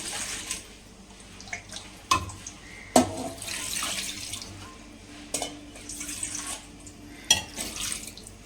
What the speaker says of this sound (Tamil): 1 வாளி தண்ணி வந்து சேர்த்துக்கிறேன்.